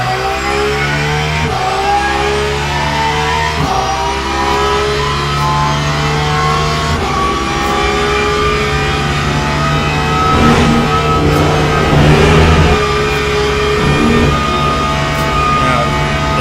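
Mercedes-AMG GT3 race car engine in the Le Mans Ultimate racing sim, loud and close, revving high through repeated gear shifts with rising and falling pitch sweeps for the whole stretch.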